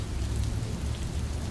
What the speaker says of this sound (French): Il pleut aujourd'hui ici à Seattle, Washington.